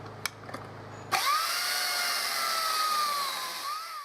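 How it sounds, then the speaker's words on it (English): A chainsaw cuts branches held in a cutting jig. After a few faint knocks, the saw starts abruptly and whines steadily and loudly, its pitch dipping slightly as it bites through the wood. "with this chainsaw jig, it is quite easy and fast to cut the branches."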